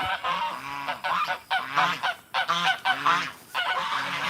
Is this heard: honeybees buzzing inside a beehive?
no